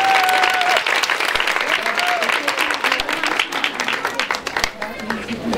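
Loud, dense audience applause at a kindergarten opening ceremony as the founder is welcomed on stage, with a few louder individual claps and faint voices mixed in.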